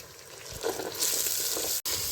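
Curry powder masala roasts in a pan while being stirred, with quiet sizzling, scraping spoon strokes and a brief splash of water sprinkled in to keep the spices from burning.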